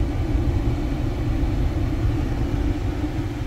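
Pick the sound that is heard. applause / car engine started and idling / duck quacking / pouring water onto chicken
car engine started and idling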